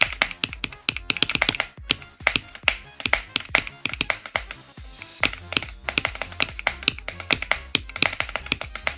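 Computer keyboard keys, including the space bar, are tapped rapidly during a game stream, making dense, loud, close clicks in quick uneven bursts that carry on throughout.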